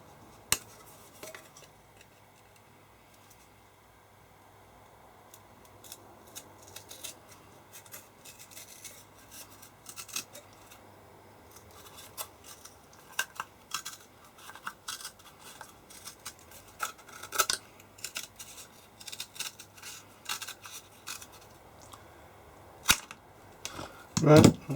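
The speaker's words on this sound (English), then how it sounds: "Sometimes when you have a small strip to cut, you can actually cut it with some wire cutters," Strong wire cutters snap through a small strip of PCB board, producing repeated sharp cracks and clicks that grow louder and denser toward the end over a quiet background.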